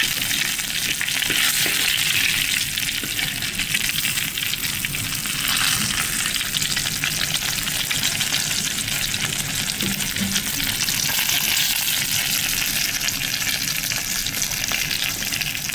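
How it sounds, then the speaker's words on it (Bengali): Dried red chillies and fish frying together in hot oil give a loud, steady sizzle that crackles without a break throughout, with no talking. "শুকনো মরিচ ভেজে নিচ্ছি, মাছটাও ভাজা হচ্ছে।"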